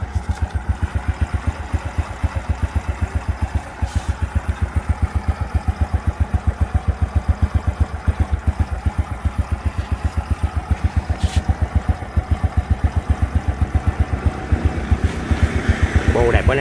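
A 2003 Honda Wave Alpha motorcycle idles close by, its exhaust putting out a steady rapid thumping pulse with a light ticking rattle, and a voice speaks over it near the end.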